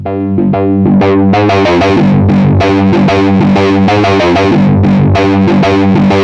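Loud, heavily distorted synthesizer run through an amp simulator with the gain turned up, playing a chunky rhythmic pattern with thick, saturated tone, no voices.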